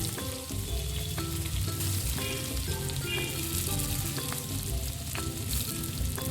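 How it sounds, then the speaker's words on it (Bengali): Potato and onion frying in hot oil as part of a gugli (freshwater snail) recipe, a steady close sizzle with scattered stirring clinks and scrapes running throughout at even loudness. "ওই তেলের মধ্যে যে আলু পেঁয়াজ আমি মেখে রেখেছিলাম সেটা দিয়ে দেব"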